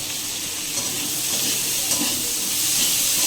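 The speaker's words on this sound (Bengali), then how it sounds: "সে পেঁয়াজ কুচিটা আবার দিয়ে দেবো।" Chopped onion sizzles in a hot pan with ginger and garlic while being stirred. The loud, steady frying hiss is close and continuous throughout, with no talking over it.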